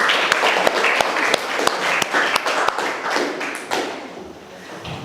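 Children clap together in a classroom, a dense patter of hands with sharper individual claps standing out, loud and close, tapering off toward the end with faint voices.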